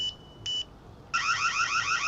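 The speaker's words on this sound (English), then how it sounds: "And it's got an alarm." The built-in alarm on a solar-powered, battery-backed security camera that swivels 360 degrees gives two short electronic beeps, then a continuous warbling siren, loud and close, with no talking.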